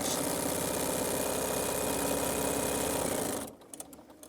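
A sewing machine runs steadily as it stitches long strips of fabric together, a continuous loud mechanical whir that stops abruptly near the end, leaving a few faint clicks.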